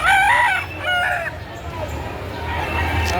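Roosters offered for sale at a livestock auction crow loudly and close, two long drawn-out calls in quick succession, followed by a lower background of crowd murmur and farmyard noise.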